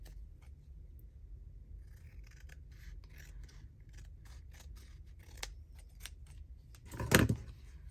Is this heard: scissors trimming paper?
yes